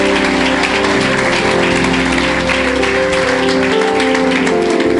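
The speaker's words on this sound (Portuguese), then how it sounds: "Pode aplaudir bem forte ao Senhor." Congregation at a healing and deliverance church service applauding loudly, a continuous roar of clapping mixed with sustained tones, likely music or voices, throughout.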